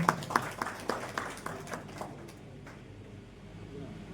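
Audience applause at an Eid Milap community gathering, a scattered burst of hand claps that starts fairly close and then quickly thins and fades into a quiet room murmur.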